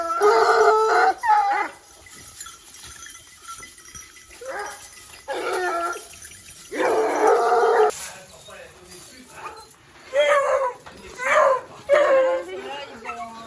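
A Gascon Saintongeois hound barks and howls, with a bark-filled stretch early on, a long drawn howl in the middle and more bursts near the end, alternating with a person speaking.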